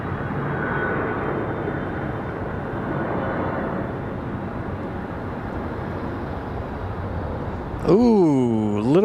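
Boeing 757 airliner from Atlanta landing at Raleigh-Durham airport, a steady broad engine roar heard from a distance, joined near the end by a rising and falling whine.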